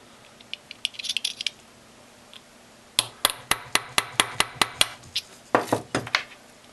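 Hollow tube tapped to seat a washer onto a plastic disc on a 1939-47 Dodge truck speedometer pointer: a few scattered light clinks, then a steady run of about a dozen quick metallic taps, close by, ending in a short cluster.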